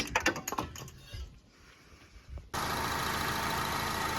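A car engine idles steadily with the A/C on during a refrigerant recharge using a UV dye injector kit; a few clicks and handling noises come first, then a loud, constant hum and whoosh fills the rest.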